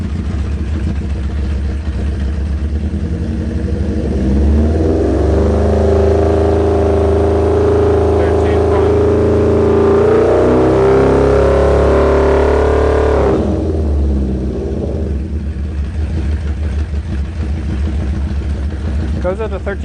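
A car engine, in a barn-find Brat being fixed for charging trouble, idling then revving up and holding above 2500 RPM before dropping back to idle, loud and close with someone talking over it.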